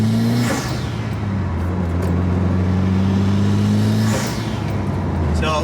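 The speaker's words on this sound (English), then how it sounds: "You do hear a lot of intake noise, and that's from the engine intake system" Mitsubishi Evo 10 with its factory blow-off valve, engine droning from inside the car as gears climb, with whooshing intake and blow-off bursts at two shifts, close and loud, no talk.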